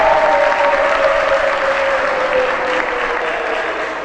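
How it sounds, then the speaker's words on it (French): A studio audience at a French spelling game show breaks into steady, sustained applause, dense and close, with a faint tonal note underneath and no voices over it. "On l'acclame."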